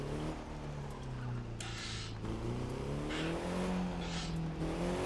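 A car engine drones steadily at high speed while driving through Detroit in the racing game The Crew 2, its pitch rising and falling with acceleration and shifting, continuous and fairly loud throughout.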